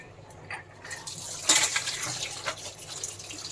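New baby clothes, a cap and a nappy among them, are dunked and swished in plain water. Close, brief splashing and sloshing builds midway and continues in short watery bursts, with no voices.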